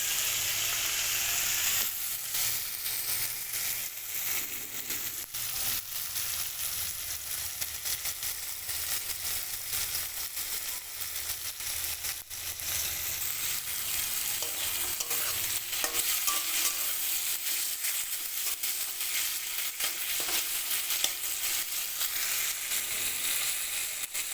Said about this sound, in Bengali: রান্নার জন্য চিংড়িতে নুন হলুদ মাখিয়ে চিংড়িগুলো ভেজে নিচ্ছি